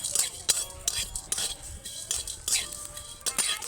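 Whole mustard seeds, fennel, cumin and peppercorns are dry-roasted in a wok, a utensil scraping and stirring them in quick, irregular metallic clinks and scrapes, close and fairly quiet, with no speech.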